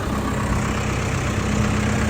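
A tractor engine idles steadily on a cattle farm before feeding hay, a constant low rumble with a faint steady hum, no talk.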